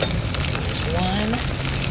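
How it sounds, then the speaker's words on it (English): Eggs fry in a hot pan with a dense, steady sizzle and crackle, close and loud for a brief moment, no voices. "go ahead and fry the eggs"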